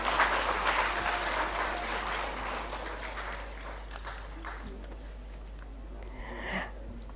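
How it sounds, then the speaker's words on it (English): An audience at a sustainability education conference plenary session applauds with a broad clatter of clapping that is strongest at first and then gradually thins and fades. "Let's have a round of applause for the release."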